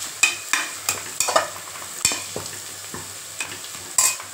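Kashmiri chili powder being stirred into sautéed onions in a biryani pan: a low sizzle broken by repeated sharp spoon scrapes and clacks against the pot, close and uneven in rhythm.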